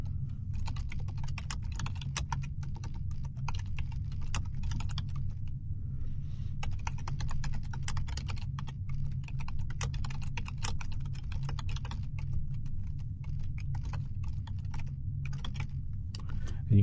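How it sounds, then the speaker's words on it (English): Computer keyboard typing, with rapid irregular key clicks running steadily throughout over a low background hum and no talk. "let's go ahead and start typing"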